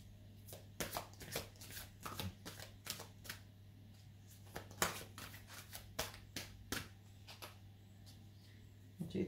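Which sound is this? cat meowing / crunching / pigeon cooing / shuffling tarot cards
shuffling tarot cards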